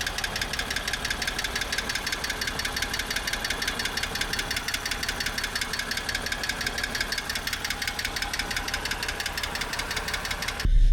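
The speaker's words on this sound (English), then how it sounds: "So besides the lifter tick, I mean, everything sounds healthy." A BMW E90 328xi engine idles steadily while a fast, regular metallic lifter tick taps along on top, constant and close until it cuts off at the end.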